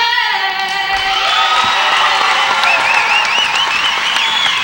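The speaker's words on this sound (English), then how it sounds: "She gets a big hand from the crowd." A gym crowd applauds and cheers after an a cappella national anthem before a 2005 CIF Division V NorCal semifinal girls' basketball game, a steady roar of clapping with whistles and shouts over it throughout.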